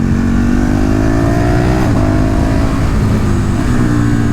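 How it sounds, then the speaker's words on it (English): A KTM 1290 Super Duke motorcycle engine roars loud and close, its pitch climbing and then dipping briefly under hard throttle, with steady wind rush mixed in. "All these KTM bikes, the Super Duke, the 890 Duke, they all have that supermoto feel and supermoto sounding engine, except it's on steroids"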